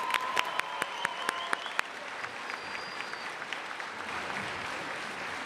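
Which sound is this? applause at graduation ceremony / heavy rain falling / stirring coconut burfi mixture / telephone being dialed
applause at graduation ceremony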